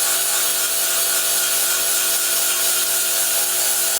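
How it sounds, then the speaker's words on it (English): A grinder cleans up weld spots on the inside of a 1941 Mercury's custom-fabricated frame, a loud, continuous rasping whine close by, steady for four seconds then cutting off. "I'm gonna get the grinder and clean up those weld parts that are on the other side of the inside of the frame."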